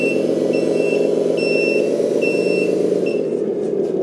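1/14 scale Benz LESU 8x8 RC crane truck backing up, its electronic reversing beeper sounding evenly spaced tones over a steady loud motor hum, close and alone.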